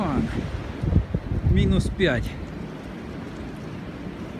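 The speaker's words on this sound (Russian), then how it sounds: "Ох, и ветрюган." Strong winter wind blowing during snowfall in Minneapolis, a steady broadband rush and low rumble that persists throughout, close to the microphone, with a person speaking briefly over it early on.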